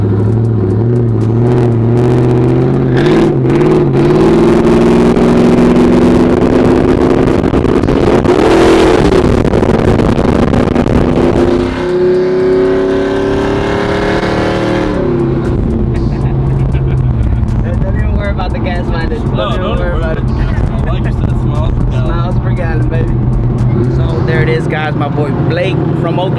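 A pickup truck engine runs steadily up close, rumbling at idle and rising through a few revs, with people talking over the motor the whole time.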